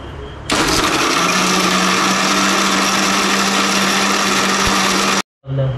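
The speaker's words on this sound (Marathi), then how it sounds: "ते मिक्सर लावूया" A kitchen mixer grinder switches on with a jolt and runs at a loud, steady, high-pitched whine for about five seconds, then cuts off abruptly. A faint voice or noise sits before and after it.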